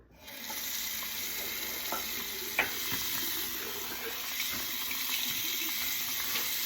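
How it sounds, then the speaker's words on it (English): A bathroom sink tap runs steadily while a face is wetted, a soft continuous trickle with small splashes and a single louder splash near the middle, close and fairly quiet, with no voices. "we're gonna fast forward through this step right after I wet my face"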